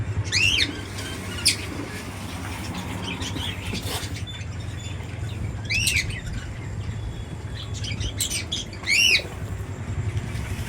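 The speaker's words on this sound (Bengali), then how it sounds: "দেখো পাখিগুলো কিচির মিচির করে কি সুন্দর গান গাইছে" Several caged birds, including cockatoos, chirp and squawk in sharp bursts over a steady low hum, some calls close and shrill, others scattered between.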